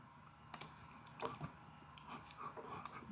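Mouse clicks on a computer, a few sharp isolated clicks scattered among light keyboard-like tapping, quiet and close, with no talk.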